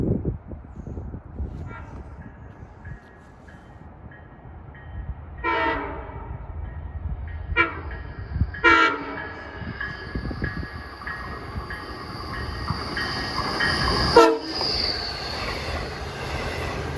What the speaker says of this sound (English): Ah, that's a solid horn.